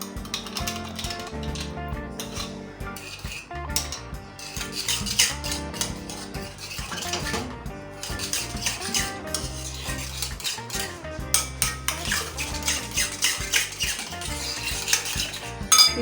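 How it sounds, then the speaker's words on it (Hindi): Cream is whisked briskly in a large bowl, a loud, close, continuous clatter and scraping of a whisk against the bowl with a steady rhythm and no talking. "सबसे पहले क्रीम लेंगे, बड़े बाउल में डाल के"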